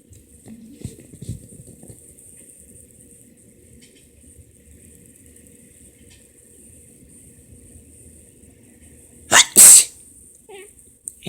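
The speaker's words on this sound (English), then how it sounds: "sorry for sneezing" A person's sneezes burst out near the end, a loud close double sneeze after a mostly quiet stretch with faint distant rumble and a few small knocks early on.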